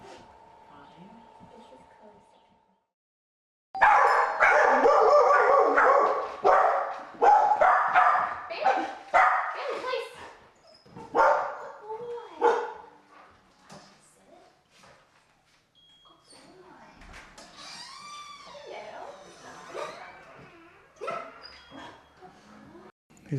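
A dog barks, yips and whimpers in short excited bursts, close and fairly loud, with a quieter stretch of softer whines and vocal sounds toward the end.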